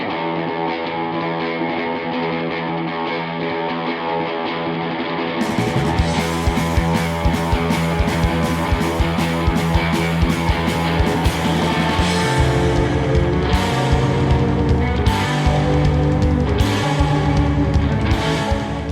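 A rock song plays continuously with distorted guitars, steady drums and bass, building in intensity partway through with no talking.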